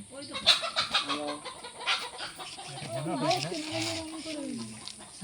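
A chicken clucks nearby in short, uneven bursts, with people talking over and between the calls in an outdoor setting.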